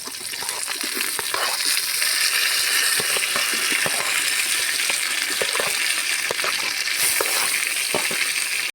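Three large sliced onions sautéing in hot oil for a home-style chicken biryani, a loud dense continuous sizzle up close with scattered crackles and stirring scrapes.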